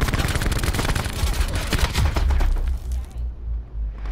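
AK rifle fire in a video game, a rapid, loud close burst of automatic shots lasting about three seconds before it cuts off into a low rumble, with no voices over it.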